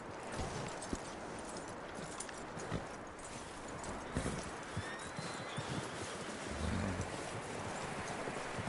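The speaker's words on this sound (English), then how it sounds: "That looks like a decent horse." Horse hooves clip-clopping at a steady walking rhythm in the video game Red Dead Redemption 2, with occasional louder thuds and soft ambient noise throughout, no talking.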